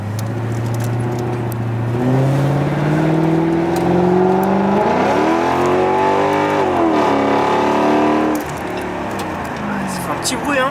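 Inside a Mercedes fitted with a Rocket Bunny kit, the exhaust note is muffled but clearly present. The engine drones steadily, rises as the car revs, dips, then climbs again before easing off.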